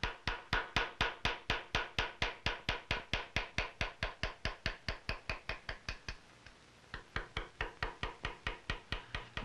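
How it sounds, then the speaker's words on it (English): A round bottom chisel is tapped steadily with a small hammer to cut lobes and leaves in a metal side plate for a colonial gun, a close, even train of crisp knocks with a brief pause partway through. "A round bottom chisel is used for cutting lobes and leaves."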